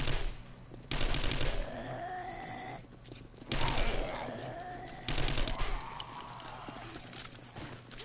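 Gunfire in the game 7 Days to Die on PS5, three bursts of rapid shots spaced a couple of seconds apart, each trailing into a lower rumble with faint ambient noise between.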